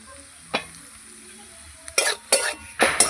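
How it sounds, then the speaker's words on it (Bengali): Leafy greens fry in oil with garlic: a soft sizzle under a few sharp scraping stirs of a spatula in the pan. "রোস্ত আমরা তেল রসুন দিয়ে করি এইভাবে করলে শাকটা খেতে ভালো লাগে একটুখানি ভেজে দেবো আমি"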